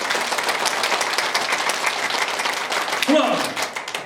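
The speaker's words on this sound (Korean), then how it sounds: "자, 박수 준비! 박수 시작!" An audience at a CEO academy lecture claps rapidly and continuously on cue, a dense, steady wash of hand claps with a brief shout rising near the end.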